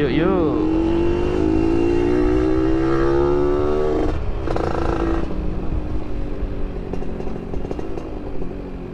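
A Yamaha F1ZR two-stroke motorcycle fitted with an R&R racing pipe 3v3 exhaust revs up sharply, then holds a buzzing, raspy high idle with blips and clatter, loud and close throughout.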